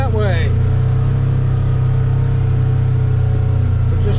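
A UTV engine drones loud and close at a steady pace while the vehicle cruises along trails, with a low constant rumble throughout and a short voice at the start.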